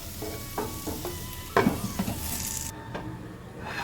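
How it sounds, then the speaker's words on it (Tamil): Amla (gooseberry) thokku with turmeric is stirred in a pan, a spoon scraping and clinking against the metal over a soft steady sizzle, with a few sharper knocks near the middle and no talking. "இதை நல்லா கலந்து விட்டுட்டு மூடி போட்டு வேக ஒரு அஞ்சு நிமிஷம் வேகட்டும்"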